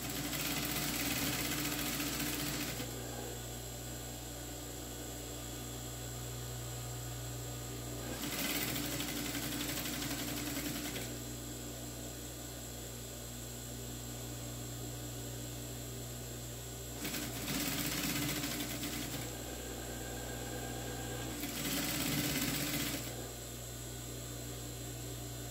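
A domestic sewing machine stitches a seam on a cloth dish towel in four bursts of fast, rhythmic whirring and clatter, separated by quieter pauses with a low background hum.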